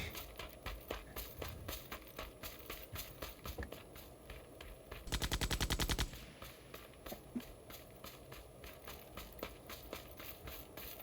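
Rapid, evenly spaced bursts from an MG3 machine gun in a video game, a dense two-second stream of fire standing out from quieter steady game noise and footsteps around it.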